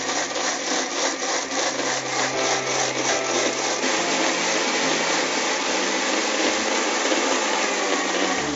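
A kitchen mixer grinder churns soaked jowar (sorghum) into batter, a steady, loud whirring grind that runs continuously without pause and with no voices over it.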